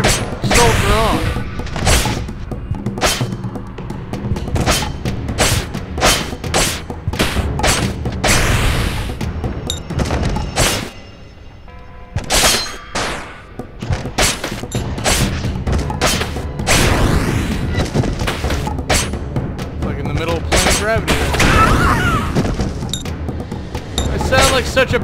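Gunfire in the video game Samurai Gunn cracks and booms in rapid, scattered bursts, with a voice, clinks and thuds throughout a loud, busy stretch.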